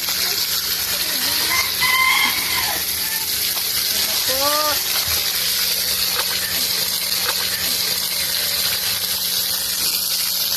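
Water runs from a faucet during laundry as a steady, even hiss that holds throughout, with a few faint chirps and brief voices in the background.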